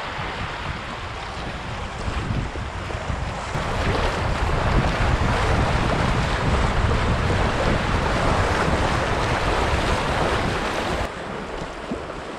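Water laps and splashes steadily around a canoe out on a lake in the Canadian wilderness, mixed with gusting wind noise on the microphone, continuous and fairly loud with no voices.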